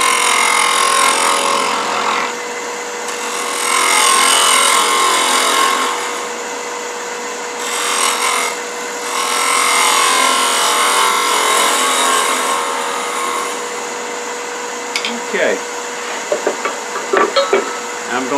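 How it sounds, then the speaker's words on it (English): A bowl gouge shearing into wood spinning on a lathe while a salt shaker is turned, a loud steady hiss in long passes with brief pauses, ending in lighter scraping taps. "bowl gouge, because it takes a nice peeling and shearing cut simultaneously and give me a nice finish"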